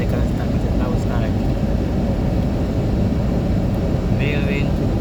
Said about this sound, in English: Real wind,